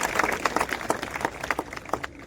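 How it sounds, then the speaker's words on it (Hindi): An audience at a village education fair claps for the village head, a run of scattered, uneven hand claps of moderate loudness that continues steadily throughout, with no voices over it. "सब लोग ताली बजाकर दिखाओ सरपंच साहब के लिए"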